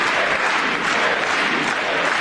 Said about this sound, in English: Republicans are clapping and happy as can be.